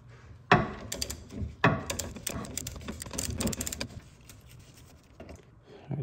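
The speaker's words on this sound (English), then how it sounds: "All right, let me remove this 17 millimeter." A 17 mm bolt comes off the rear suspension of a Lotus Elise S1 in a run of close ratchet clicks and metallic clanks, with sharp louder knocks in the first half.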